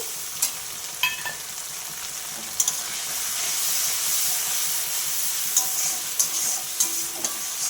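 Water is poured into spices frying in a pan while cooking young jackfruit with prawns. A steady, close sizzle and hiss rises, with sharp clicks and scrapes of stirring throughout and no talking.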